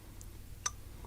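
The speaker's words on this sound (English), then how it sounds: "Ticking clock." Ticking-clock alert on a Samsung Galaxy Watch gives a few faint, sparse ticks, one sharper click in the middle, very quiet and alone against a low hum.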